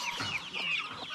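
High, thin peeping from young chicks, a rapid cluster of chirps close by with no talking.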